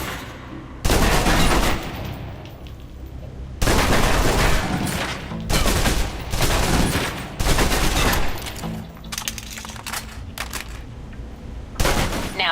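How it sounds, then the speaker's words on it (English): A submachine gun in the video game Alpha Protocol fires a full clip in several long, loud bursts of rapid automatic shots, separated by brief pauses, with no talk over them. "Now, let's move on to the submachine gun. Now let's empty the clip."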